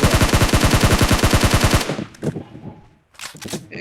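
Rapid automatic gunfire in the video game PUBG Mobile, a dense burst of evenly spaced loud shots for nearly two seconds, then a few scattered sharper shots and short gaps of quiet.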